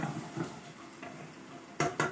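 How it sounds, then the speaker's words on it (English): Chopped shrimp and corn sautéing for Filipino ginisang mais, a close soft sizzle broken by a few utensil stirs and two sharp scraping clatters of a spoon against the pan near the end, with no talking. "Saute."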